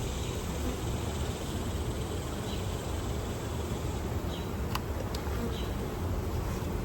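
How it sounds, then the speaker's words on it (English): A steady, dense buzz of many bees humming continuously at close range, with no pauses. "want to shake all these bees"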